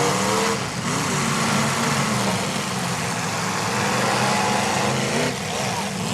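Demolition derby cars race around a dirt track in Heber, Utah, their engines droning loudly and continuously with a revving, straining tone, mixed with broad crowd and arena noise.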